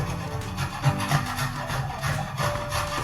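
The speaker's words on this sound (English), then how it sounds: "So I'm just going to finish grating this cheese here." Pecorino cheese grated by hand for spaghetti carbonara, heard as a rhythmic scraping rasp, several quick strokes close to the microphone in a quiet kitchen with no talking.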